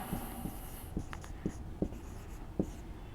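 Chalk or marker writing on a board during a Hindi word lesson, a series of short taps and strokes spaced about half a second apart, close and fairly quiet, with no voice.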